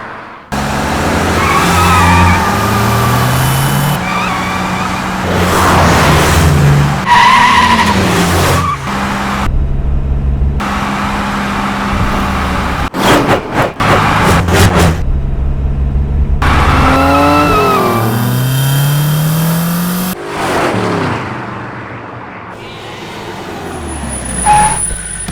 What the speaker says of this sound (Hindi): यहाँ पर गाड़ी क्यों रोक दी?